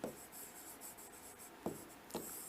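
A pen glides over paper in short strokes, making a soft close scratching with a few slightly stronger strokes, quiet and alone with no talking.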